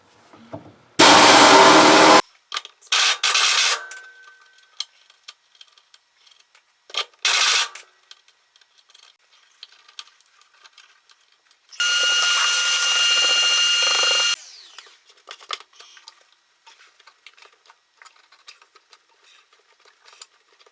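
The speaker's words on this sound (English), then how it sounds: "I'll try the air drill real quick and see if that'll fit." An air drill works inside a Triumph Spitfire while crashpad rails are fitted, loud hissing bursts in short separate runs, the longest about three seconds, broken by light clicks and rattles in an otherwise quiet space.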